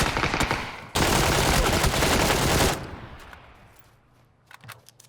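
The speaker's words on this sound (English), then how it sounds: "There's also a suppressed sniper firing up this hill here." Suppressed sniper rifle fire in PUBG, heard as a dense loud burst of gunfire lasting about two seconds, followed by a fading tail and a few faint scattered shots.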